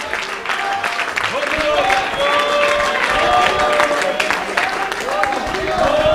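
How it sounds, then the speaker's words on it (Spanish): During a church evangelism service in Bonaire, the congregation bursts into loud, sustained clapping and cheering, mixed with singing or shouted praise and a few sustained musical tones running through the crowd noise. "Un aplauso para el Señor, aleluya."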